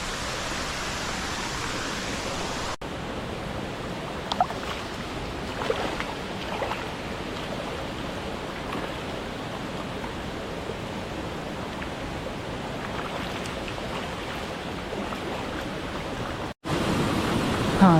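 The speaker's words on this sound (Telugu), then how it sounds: "కొండ పై నుంచి వాటర్ ఫ్లోయింగ్ కిందకి వస్తుంది." Rampa waterfall stream pours down from the hill in a steady, unbroken rush of water that fills the whole stretch at an even level, with no voices over it.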